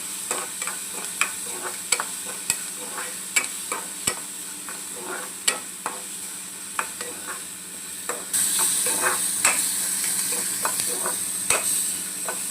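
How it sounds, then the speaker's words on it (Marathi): Chopped onions sizzle steadily in a hot pan for kanda poha, with repeated scraping clicks of a spoon stirring them at a regular pace, the frying hiss growing louder partway through; no voices. "याला चांगला आपण आता कांदा लालसर करून घेऊया"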